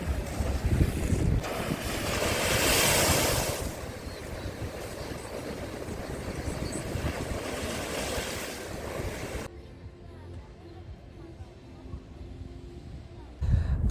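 Sea waves washing and splashing onto the Odesa shore at Lanzheron beach, a broad steady surf roar with wind buffeting the microphone, fading quieter near the end before a brief gust returns.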